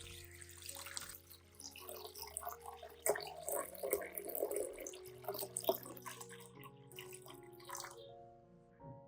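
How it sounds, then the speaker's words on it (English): Two liters of water poured into a clean pot holding potato peels, a close, quiet splashing and trickling stream with tonal ringing from the pot, rising and falling over several seconds before stopping abruptly. "Then I add 2 liters of water and bring it to a boil."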